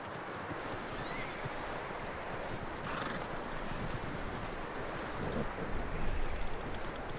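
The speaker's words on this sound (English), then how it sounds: "That looks like a decent horse." In Red Dead Redemption 2, a skittish horse's hooves clip-clop steadily at moderate distance, with a neigh rising near the end. The sound is faint, over a constant wash of outdoor ambience.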